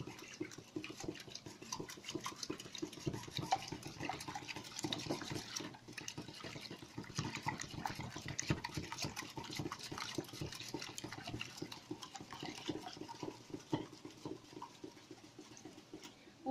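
Egg and milk mixture being beaten in a bowl, a rapid continuous whisking with soft liquid sloshing and utensil ticks, close and faint, with no talk.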